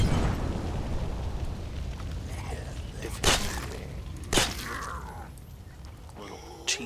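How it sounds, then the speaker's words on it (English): Petrol bombs explode in a video game, a few sharp bursts and shattering cracks standing out over a constant rumbling game background. "so we're just cracking open this gasoline to keep us fueled up with petro bombs"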